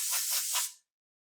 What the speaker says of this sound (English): I'll grab the air hose from over by the bandsaw and do that